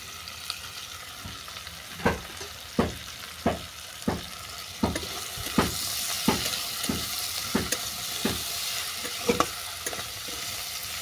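Sugar being stirred into frying spices in a pan for a vegetarian water spinach stir-fry, with a spatula scraping in a steady rhythm of about a dozen sharp strokes over a constant sizzle.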